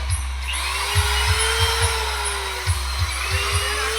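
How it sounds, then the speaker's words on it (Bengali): Power drill working in a speaker cabinet workshop building 21-inch bass boxes: a continuous whining drill motor with repeated short bursts of boring, close and loud, with no speech. "এখানে কিন্তু ড্রিল করা চলছে"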